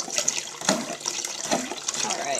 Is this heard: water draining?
yes